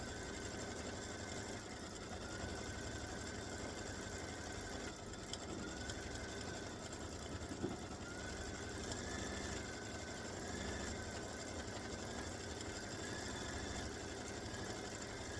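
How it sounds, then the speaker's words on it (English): A quilting sewing machine runs steadily in an edge-to-edge pattern, stitching a peace symbol with a continuous mechanical hum and whir, close and even throughout with no talk. "So it's stitching this in the center, the peace symbol, the peace sign."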